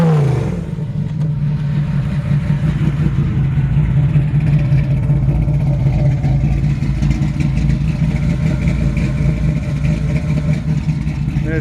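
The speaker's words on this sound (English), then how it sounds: "This thing sounds bad to the bone." A 1972 Chevrolet Camaro engine runs steadily at a loud, rumbling idle through its exhaust, with a deep continuous drone and slight revving swells throughout.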